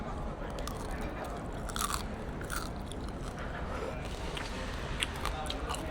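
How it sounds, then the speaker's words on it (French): Crisp, crackly crunches of teeth biting into the skin of well-cooked porchetta seasoned with herbs and spices, close and loud, with a sharp burst near the middle and continued chewing throughout. "Mais écoutez le crispy de cette peau."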